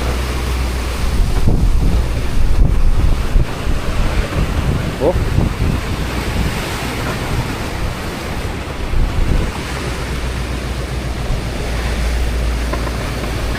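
Rough Pacific Ocean swells and strong wind at sea, heard from a boat, make a loud continuous roar of surf and wind buffeting the microphone, with a brief voice cutting in.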